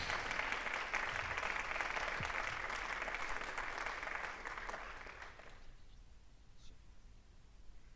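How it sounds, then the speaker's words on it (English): Applause at a school board meeting, steady clapping from the audience for about five seconds, then fading out into quiet room tone. "Applause."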